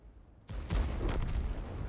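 A heavy tank cannon blast in the video game World of Tanks, from an XM66F tank, erupts suddenly, followed by a sustained rumbling roar and crackling debris, loud and close.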